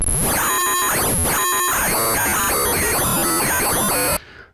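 A Korg Monologue synthesizer sputters loud, chaotic digital tones as its LFO rate knob is turned back and forth, with shifting stuttering pulses and sweeps that cut off abruptly near the end.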